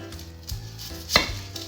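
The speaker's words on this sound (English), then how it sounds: "we are going to need 1/3 of the red onion, and we are going to chop them" Knife chopping a red onion on a cutting board, a few sparse thuds with one sharper, louder cut near the end, alone without talk.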